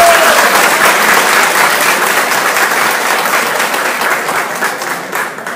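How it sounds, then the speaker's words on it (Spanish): A large crowd at a political candidates' meeting breaks into loud, sustained applause, steady and dense throughout before easing slightly at the end. "Yo quiero que en este momento nos demos un fuerte aplauso por este encuentro de candidatos."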